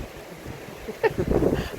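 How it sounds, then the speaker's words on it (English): Wind gusting and buffeting the microphone outdoors by a beach hut near the sea, with a rumbling low roar and brief fluttering bursts. "Because it's very windy."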